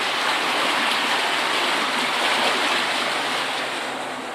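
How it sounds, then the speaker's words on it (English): Water rushes steadily through the bottom of a mill sluice on the River Ver, a loud, close, broadband roar that holds constant throughout and eases slightly at the end. "Water flowing through the bottom."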